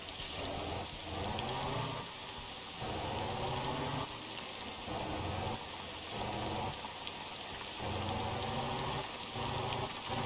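Steady video game rain hisses and patters continuously, with a low rumbling bus engine drone pulsing underneath, no voices.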